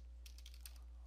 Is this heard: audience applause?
no